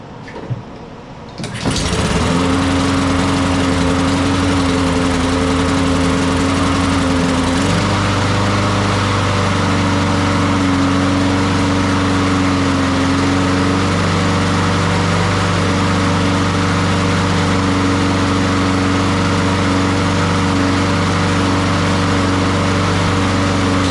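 A TroyBilt TB130 push mower that sat in storage for two years is pulled into life after a short rattle, then runs loud and steady at close range, its pitch dropping slightly partway through and holding there.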